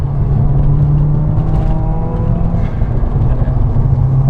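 A 2015 Subaru WRX with a Stage 2 tune drives along under power, its engine droning loud and steady from inside the cabin with road noise, the pitch rising slightly as it accelerates.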